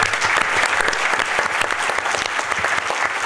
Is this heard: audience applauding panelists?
yes